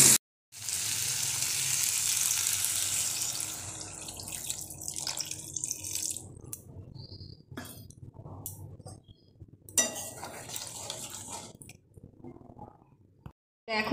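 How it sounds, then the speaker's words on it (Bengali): Pointed gourd and potato sizzling in a wok for a Bengali kosha, a loud close sizzle at first that thins into softer crackles, drips and light clinks. "পটল আলুটা কষানো হচ্ছে"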